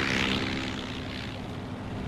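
Several Swordfish torpedo bombers take off from an aircraft carrier at night, propeller engines giving a steady, loud, broad roar that holds through the whole stretch with no voices.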